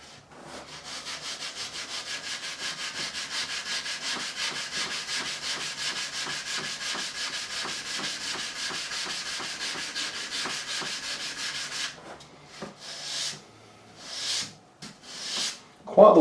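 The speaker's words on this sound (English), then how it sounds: "Lovely little sanding block. This will just fold in like so." Hand sanding with a folded sanding block on wood for a Warwick Corvette Double Buck neck repair, a steady rhythmic rasping scrub repeating for about twelve seconds, then a few separate strokes and brief noises.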